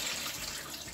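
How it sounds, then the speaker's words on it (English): Dirty water is poured out of a basin into a sink after a hair wash, a steady close splashing stream that runs for the whole second with no talk over it. "So I'm gonna dump out"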